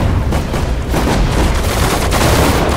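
Infantry gunfire in the WWII strategy game Sudden Strike 4 at the Battle of Dunkirk: a dense, loud, continuous rattle of rifle and machine-gun shots with dull booms mixed in, steady throughout with no talk.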